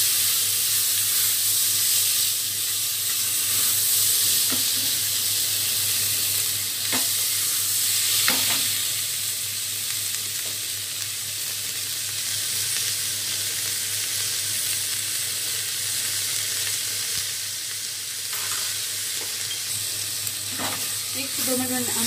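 Spices roasting in a pan with peas and salt for vegetable-loaded khichdi, a loud continuous sizzle and hiss with occasional stirring scrapes throughout.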